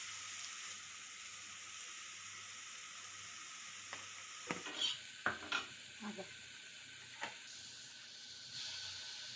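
Egg curry ingredients fry in a pan, giving a faint, continuous sizzling hiss with a few soft clinks and scrapes of stirring partway through.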